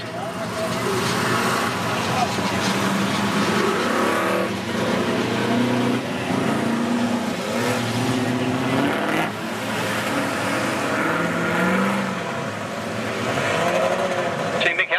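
Outlaw sedan race cars lap a speedway track at night, engines droning and revving loudly and continuously, with a commentator talking over the racing throughout.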